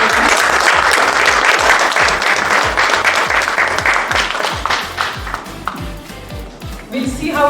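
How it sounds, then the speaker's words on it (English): Loud, close applause breaks out for a presenter at a school AI event, with sharp individual claps over the crowd. The clapping thins near the end as a voice begins to speak. "A huge round of applause to Prerna."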